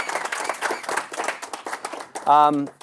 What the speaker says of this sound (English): we should give a big round of applause for our panelists, Andrea, Ray, Will, and Aulani.